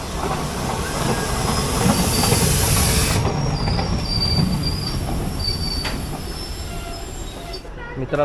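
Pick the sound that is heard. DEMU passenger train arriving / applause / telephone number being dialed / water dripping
DEMU passenger train arriving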